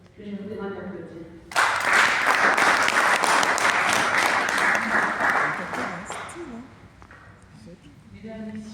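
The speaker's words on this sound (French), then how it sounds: "Nous allons donner la parole au docteur Dos, que je vous demande d'applaudir." A hall audience bursts into sustained, loud applause lasting several seconds at a conference event, then fades as a speaker's voice returns; talk is heard before and after the clapping.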